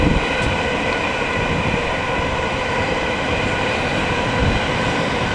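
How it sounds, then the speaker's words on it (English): A noisy train passes near a home, making a loud, steady rumble and rattle of rail cars. It lasts the whole stretch with no voices. "oh, noisy train, hang on."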